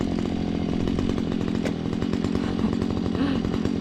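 A petrol engine drones loud and steady at close range throughout, with a rough pulsing rumble, heard during summer garden mowing work, probably a lawn mower or similar outdoor power tool.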